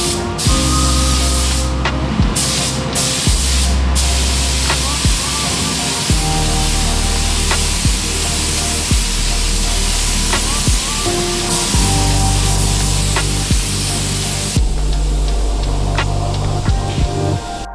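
Continuous hissing spray close by, running in long bursts with brief pauses, over a low steady hum of a compressor.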